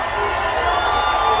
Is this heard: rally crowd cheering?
yes